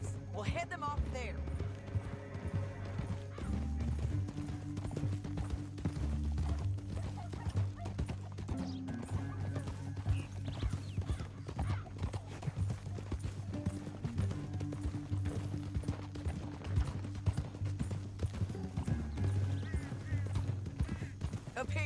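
Horses walking through a canyon, hooves clip-clopping in a steady rhythm under music and the voices of people talking.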